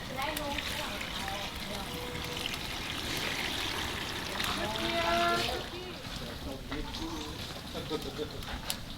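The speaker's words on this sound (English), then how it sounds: "And then add in water to cover." Water poured from close by into a large pot of wrapped sticky rice bundles, a continuous splashing and gurgling stream with rising bubbly tones as the pot fills, settling to trickles near the end.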